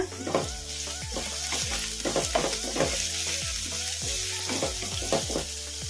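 Finely chopped medium onion fries in oil and is stirred in a pan, with rhythmic scraping strokes over a steady crackling sizzle.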